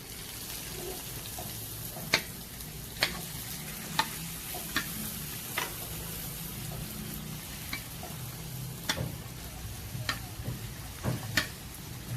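Pani puri dough rounds fry in hot oil, a faint continuous bubbling sizzle broken by sharp little ticks and taps as they are pressed down under the oil.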